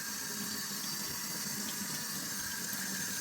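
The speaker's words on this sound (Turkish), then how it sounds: "Sadece bu iki yaprak kaldı. Bunları da yıkayalım." Leaves are rinsed under a running kitchen tap, giving a steady, continuous splashing of water that stays at an even level throughout without any voices.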